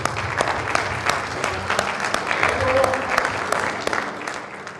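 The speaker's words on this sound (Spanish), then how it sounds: "Vamos a darle su aplauso." An audience at a university talk on a governor's election applauds, with scattered individual claps standing out over a steady crowd of clapping for nearly five seconds.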